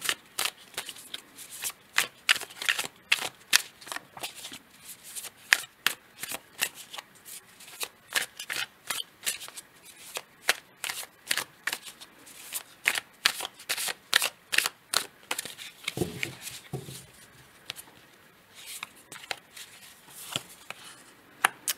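Tarot cards are shuffled for a card reading, repeated crisp riffling and slapping bursts at an uneven rhythm, close and clear, with a brief soft voice near the end.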